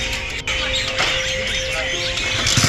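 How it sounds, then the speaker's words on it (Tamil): Many parrots call from inside a dense tree, making a busy overlapping chatter of squeaky chirps and screeches, steady throughout with a brief dip near the start and a faint low tone underneath. "எவ்வளோ கிளி சத்தம் கேட்குது பார்த்தீங்கன்னா."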